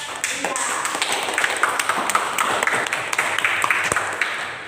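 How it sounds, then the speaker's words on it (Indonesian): A classroom of students claps for a classmate, sharp scattered hand claps with uneven rhythm, fairly near, with a few voices mixed in. "Yuk, tepuk tangan dulu untuk Mbak."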